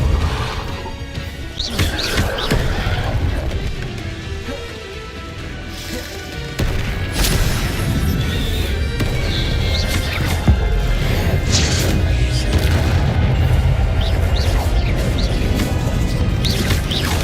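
Spells cast in combat in the video game Hogwarts Legacy: continuous crashes, whooshes and impacts, loud and busy throughout, with a heavier burst around six and a half seconds.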